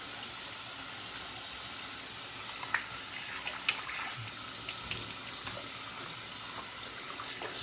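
Running tap water rinses shaving soap off a face, a steady close hiss of flowing water with a few small splashes and drips over it.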